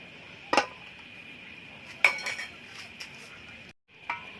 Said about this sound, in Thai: ปิดฝาไว้ครับผม